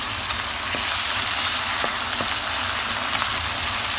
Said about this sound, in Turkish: Birazcık domatesler kavrulsun, suyunu salsın.